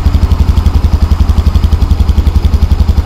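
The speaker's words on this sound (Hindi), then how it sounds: "और ये रहा इसका एग्जॉस्ट साइलेंसर, आवाज़ सुनो आइडियल पे" A Bajaj Avenger 160 Street motorcycle idles steadily, its exhaust putting out a close, even low thump with a fast regular beat throughout, and no voices.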